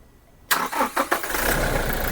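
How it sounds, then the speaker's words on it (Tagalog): Diesel engine with freshly cleaned and calibrated injectors cranks and fires after a short quiet stretch, a few quick cranking pulses settling into a loud, even idle close by. "So ngayon, tignan natin ang andar ng injectors ng makina po nito."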